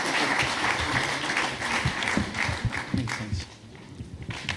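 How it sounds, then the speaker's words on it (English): Audience round of applause at a hydrogen round-table session of the Monaco Energy Boat Challenge 2023, dense clapping that holds steady then thins and fades toward the end. "If you can give them a round of applause"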